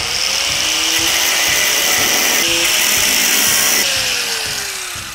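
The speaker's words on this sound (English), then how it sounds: "it was an angle grinder, which pulls a lot of juice" An angle grinder running on power from a Bluetti solar generator whines loudly and steadily throughout, its pitch dipping and rising as it bites into the work, then easing slightly toward the end.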